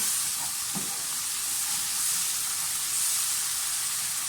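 Masala sizzling steadily as it fries in a pan for a cabbage dish, a constant bright hiss that stays close and even throughout with no talk.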